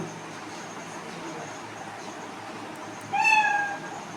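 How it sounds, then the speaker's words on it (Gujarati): A single cat meow sound effect plays from a chatbot program at a school chatbot day event, a clear rising-falling call lasting under a second over a steady low background hum. "જો બિલાડીનો અવાજ આવે છે"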